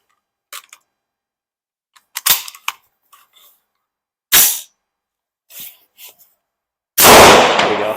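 Sharp gunshots from a rifle with a Bear Creek Arsenal upper, several separate reports with short pauses and some fainter clicks and clanks between them, ending in a longer, louder blast.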